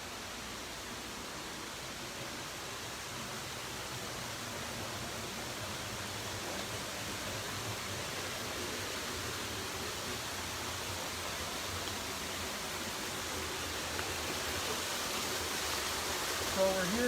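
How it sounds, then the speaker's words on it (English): The waterfall inside the Climatron greenhouse rushes as a steady, even wash of falling water, constant and moderately loud throughout, with no pauses. "we're here by the waterfall"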